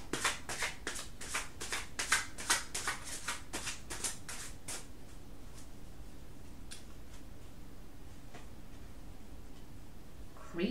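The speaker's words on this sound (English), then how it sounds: "They're so fucking hard to shuffle." Literary Witch's Oracle cards are shuffled by hand in quick, rhythmic riffling bursts for about five seconds, then a few scattered soft card taps and slides follow in a quiet room.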